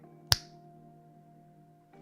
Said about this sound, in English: I'm gonna snap.